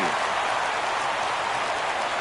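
Stadium crowd cheering in the baseball video game MLB The Show 17, a steady, dense roar of applause and noise rising for a full count, filling the short moment without talk.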